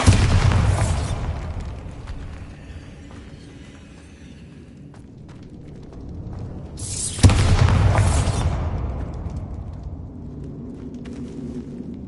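A Bombarda spell goes off in Hogwarts Legacy as two loud booming blasts, each with a rumbling tail, one at the start and a second sharper burst partway through, with game ambience between them.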